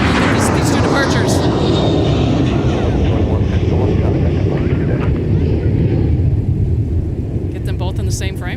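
Jet airliners departing MSP airport roar in a loud, continuous broadband rumble with heavy low-end and wind buffeting on the microphone, while people talk in the foreground.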